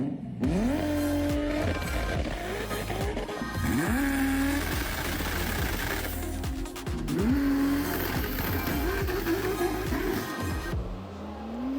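A four-wheel drive race car launches repeatedly at the Custom Motor Show Elmia in Sweden, its engine revving hard and rising in pitch with each run, loud and sustained, with crowd and venue noise underneath.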